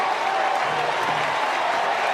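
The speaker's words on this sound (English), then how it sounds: "Crowd to its feet at the Bosch in Chapel Hill yet again." Baseball crowd at a college game between West Virginia and North Carolina in Chapel Hill rises to its feet, a steady, dense roar of cheering and applause sustained throughout without letup.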